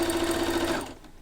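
A sewing machine runs a fast continuous stitch joining bloomer pant legs, close and steady for about a second before stopping and fading out, with no voices.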